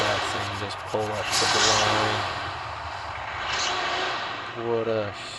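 Heavy truck engine rumbling as the rig pulls up to the start line in the mobile racing game Big Rig Racing, a steady loud drone with harmonic revving swells, while a person talks over it.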